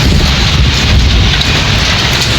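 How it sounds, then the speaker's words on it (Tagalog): Heavy rain pouring down in a dense, loud, continuous roar of drops, close and unbroken for the whole stretch, with no voices. "it's raining so hard"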